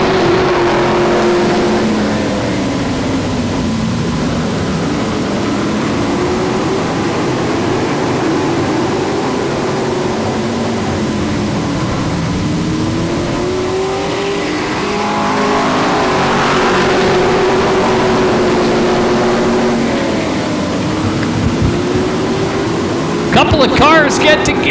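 OSCAAR hot rod race cars circle Sauble Speedway in a feature race, engines droning and rising and falling in loud sustained sweeps as they pass, with a commentator talking over the noise.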